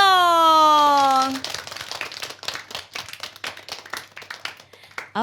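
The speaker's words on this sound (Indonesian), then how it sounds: "Tepuk tangan" Children clap their hands in a scattered, uneven burst of many small claps that fades and trickles on after a woman's drawn-out call to start it.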